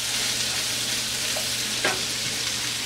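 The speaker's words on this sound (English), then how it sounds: "To this I'm adding onions first. We can stir it slightly so that the oil coats the onions." Onions frying in oil on a medium-low flame while being stirred, a steady close hiss of sizzling with a brief scrape of the spoon partway through, no talk.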